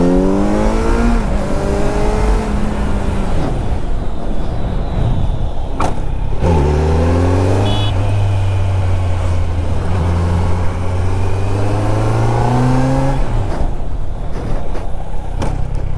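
Loud, close Kawasaki Z900 motorcycle engine during stunting, revving up and down in repeated sweeping surges, with a sharp blip and a sustained high-revving hold before easing off.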